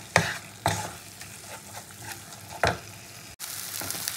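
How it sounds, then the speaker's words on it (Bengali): Masala for bhola fish kosha is stir-fried in a pan, a continuous low sizzle broken by several sharp scraping clacks of the spatula, close and fairly loud. "খুব ভালো করে কষিয়ে নিই, সামান্য জল দিয়ে আমি ভোলা মাছের কষাটা করবো।"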